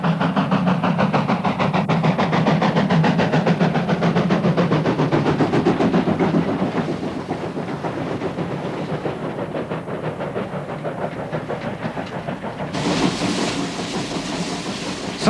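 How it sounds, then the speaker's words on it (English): A steam locomotive hauling a train in South Africa, its loud, steady rapid chuffing and rolling wheel clatter continuous and close throughout, easing slightly partway before a brief hiss of steam near the end. "South Africa is one of the very few places left where you can still see a steam engine simply doing its job."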